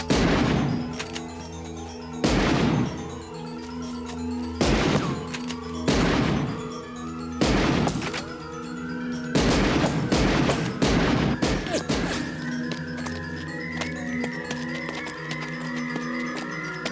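Gunfire in a film shootout: repeated loud bursts of shots crack out at irregular intervals, some in quick clusters, over a tense music score and background ambience, with no clear speech.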